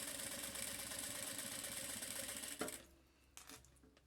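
A sewing machine runs steadily for about two and a half seconds, stitching around a curved seam on a fabric phone wallet, then stops abruptly and is followed by a few faint handling clicks.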